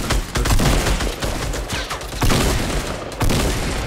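Rapid bursts of gunfire in the video game Fortnite, loud and close, several clustered volleys cracking over a dense game backdrop within a few seconds.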